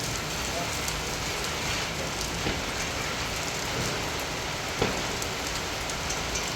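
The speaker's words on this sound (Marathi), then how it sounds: "तुम्हाला दिसत असेल आपल्या व्हिडिओमध्ये पावसाचा जोर" Heavy rain pours down steadily, a dense, loud, unbroken roar of drops hitting surfaces with no pauses.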